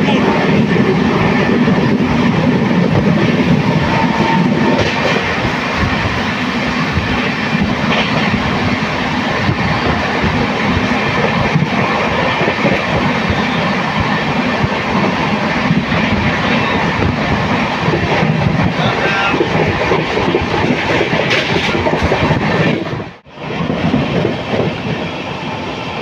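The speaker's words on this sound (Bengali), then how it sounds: "ট্রেন পার করছে চন্দনপুর" Onboard the Kalka–Howrah Netaji Express on its first LHB run, a continuous roar of wheels and carriage rumble with clickety-clack rhythm, steady and loud, dropping briefly near the end, with a voice talking over it.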